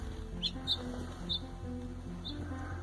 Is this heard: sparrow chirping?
yes